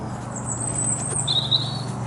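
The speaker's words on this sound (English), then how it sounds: "the lawnmower is in the distance, and these birds are very close" Birds chirp close by in a garden in short, bright whistles, over a steady low lawnmower drone in the distance.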